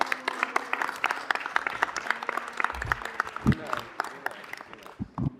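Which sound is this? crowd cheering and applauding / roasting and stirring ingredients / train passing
crowd cheering and applauding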